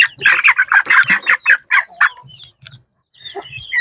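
Poultry in a coop give a loud, close run of rapid clucks and squawks that stops suddenly, followed by a few softer calls.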